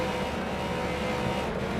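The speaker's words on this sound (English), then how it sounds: "Cars are out on the racetrack, trying to get their tires warmed up." Race cars in the iRacing video game at New Hampshire Motor Speedway drone steadily around the track with a constant, dense engine roar and no breaks.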